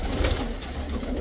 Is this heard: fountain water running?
no